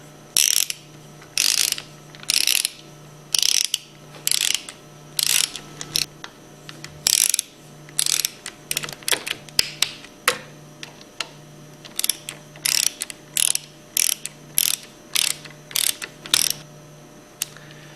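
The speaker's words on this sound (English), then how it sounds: "start these bolts by hand and then use your 1/4-inch Allen wrench and torque them between 100 and 110 inch-pounds" Rapid ratcheting bursts repeat in a steady rhythm, each followed by a pause, as side cover bolts on a 2400 plunger pump are torqued down; the clicking is close and crisp over a faint background hum.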